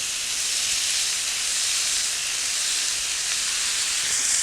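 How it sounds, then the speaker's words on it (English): Sweet thawed frozen peas and drained rice noodles stir-fried together in a hot wok, giving a steady, even hiss and sizzle throughout with no voices. "Stir fry this around until it's well mixed, and then my drained rice noodles."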